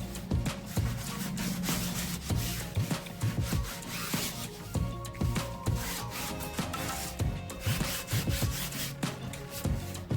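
Colour being rubbed onto junk journal paper, a close scratchy dry rubbing in repeated strokes, steady and fairly quiet with no one talking.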